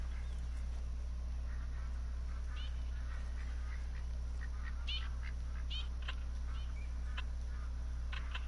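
Teal ducks call in the hunting video game Call of the Wild, New England map, with scattered quacks from several birds, faint and distant over a steady low ambient hum and no speech.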